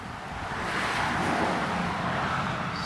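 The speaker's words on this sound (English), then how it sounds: "sorry for the noise of the traffic" Continuous roar of road traffic washes past, a broad steady whoosh of vehicles going by close to the microphone, with no talking.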